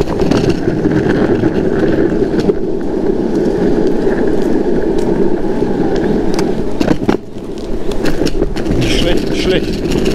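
Elwing Nimbus electric skateboard climbing a steep hill, a loud continuous rolling and motor rumble with wind buffeting the microphone.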